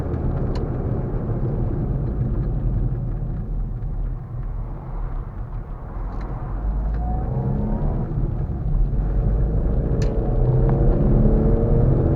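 A Rover Mini 30th Anniversary drives along country roads, its engine a steady loud rumble heard from inside the car, with road noise throughout and the pitch rising and falling through gear changes near the end.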